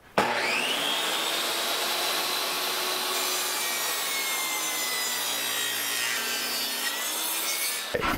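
A power saw set to a 45 degree bevel cuts through plywood in one long, loud, continuous whine with a steady rasping bite, starting and stopping abruptly.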